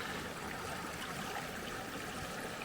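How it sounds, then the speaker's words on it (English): A creek flows steadily over rocks on a fall hike in the Austrian Alps, a continuous near rush of water with no pauses. "We're crossing over a creek now."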